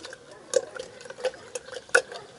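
A spoon stirs a fresh summer drink of water and squeezed lime in a glass, making light, irregular clinks and taps against the sides over a soft liquid swirl, close and quiet.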